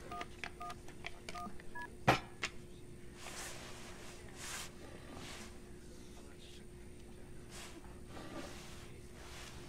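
A telephone being dialed, with a rapid string of dial tones followed by clicks and faint rustling over a steady low hum in a quiet room.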